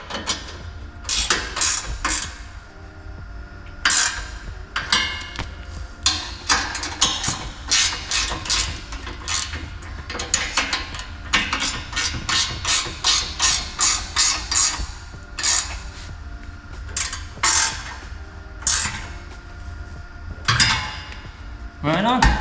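Bolts being tightened on a rear tube step fitted to a Sprinter van: loud, close metallic ratcheting and clinking in rapid bursts that repeat steadily throughout.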